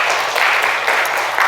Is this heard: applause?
yes